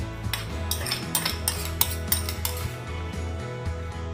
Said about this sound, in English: Now with the spoon, we can scoop our sauce over our steak.